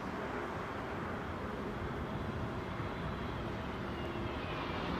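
A British Airways airliner arrives at London Heathrow from Edinburgh with a steady, loud, broadband jet roar that holds without a break for the whole stretch.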